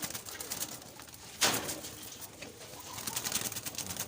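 Pigeons at a rooftop loft coo softly among other faint bird sounds, with one brief flutter or sharp noise partway through and no clear talk.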